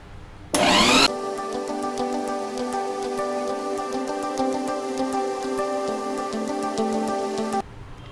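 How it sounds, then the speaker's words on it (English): An electric mixer beats eggs into thick, glossy tulumba dough, starting with a short loud burst and then settling into a steady whirring drone with a rhythmic ticking that runs nearly eight seconds without talk. "grind them until it becomes into a smooth and glossy dough"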